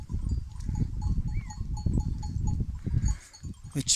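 Sheep bleating over a steady jangle of small bells, with a murmur of animals close by and one sharper cry near the end.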